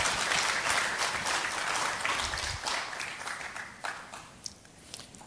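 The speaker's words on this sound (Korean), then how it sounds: "열정적으로 강의해 주신 유 대표님께 다시 한번 큰 박수 부탁드리겠습니다" Audience applause after a lecture at an intellectual property international conference in Korea, a broad wash of clapping from a sizable crowd that holds steady and then thins into scattered claps near the end.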